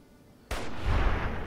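A sudden loud explosion in the video game Fallout: A Tale of Two Wastelands, a single sharp boom that swells into a heavy rumbling roar.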